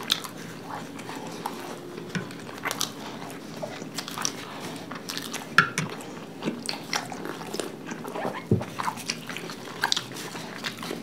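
Someone bites and chews gobi paratha, a cauliflower-stuffed flatbread, up close, with soft irregular chomps, squishy mouth sounds and occasional louder bites spread over the whole stretch.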